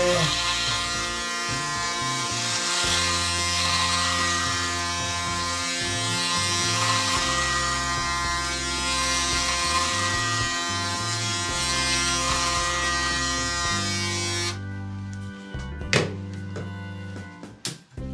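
A Braun Series 9 Sport+ or Panasonic Arc4 ES8243AA electric shaver hums loudly and continuously at close range as it glides over facial stubble, the pitch wavering with each pass before it switches off, followed by a few handling knocks.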